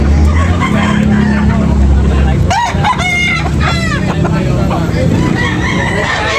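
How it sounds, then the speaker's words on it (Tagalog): A rooster crows and hens cluck over a loud, steady background of outdoor noise, with some chatter nearby, at a backyard chicken market in Tabunok, Talisay, Cebu. "Guwapong manok"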